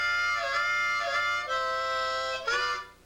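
Harmonica lick played on holes 4 and 5, alternating in and out notes, with three sustained reedy chords shifting pitch in a steady rhythm, loud and close with no talking.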